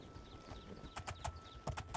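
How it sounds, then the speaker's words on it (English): Hooves of a bay horse in the video game The Elder Scrolls IV: Oblivion clip-clop in a quick run of sharp, distinct knocks over a soft background, growing clearer and louder toward the end. "And now we can head outside and see our lovely little bay horse here."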